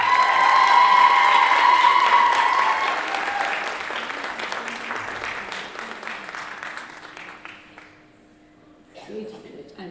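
A hall audience applauds the parents of a graduate at an Arangetram, loud and dense at first, then thinning and fading to near silence before a brief burst of clapping returns; a voice briefly talks in the background.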